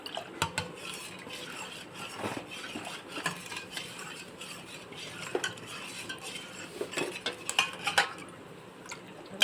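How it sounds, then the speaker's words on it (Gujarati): Ground spices such as chaat masala and dry mango powder mixed in a bowl, a quiet run of spoon scrapes and light clinks against the dish, irregular and close. "હવે આપણે બધા મસાલાને મિક્સ કરી લઈશું"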